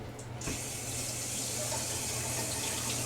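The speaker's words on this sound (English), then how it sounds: "run some cold water over this" Cold water runs from a tap to cool and harden wax inside a jackware canteen, a steady close rushing stream that starts about half a second in and continues without talk.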